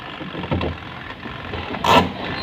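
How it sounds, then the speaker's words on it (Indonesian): A Polytron washing machine's original factory timer knob is twisted by hand, giving a few soft mechanical clicks and a brief ratcheting rasp near the end, close and quiet with no speech. "ini mesin cuci Polytron ya, ini contoh timer yang masih bener-bener ori ya, dari bawaan pabrik ya. Kita dengarkan ya."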